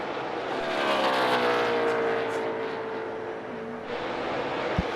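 NASCAR stock cars pass during the All-Star Race, engines rising to a loud roar and then drawing away with a falling pitch, followed by a second car sweeping by over a steady track drone.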